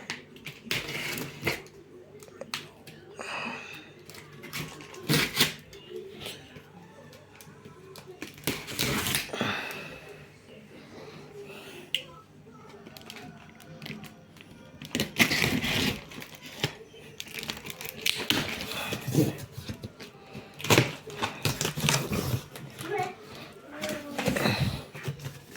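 A fishing and family trolley cart unpacked from its packaging: crinkling plastic, rustling cardboard and tearing in irregular bursts up close, with someone speaking in between.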